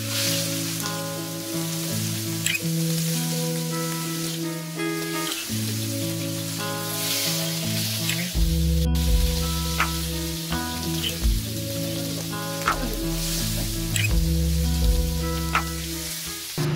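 Masala-coated tilapia fish pieces sizzling in coconut oil in a pan, a steady close crackle and hiss running throughout with no talking, under a backdrop of background music.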